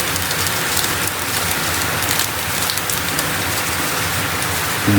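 Heavy typhoon rain pours outside, a dense, even wash of drumming drops that stays steady and loud throughout with no breaks.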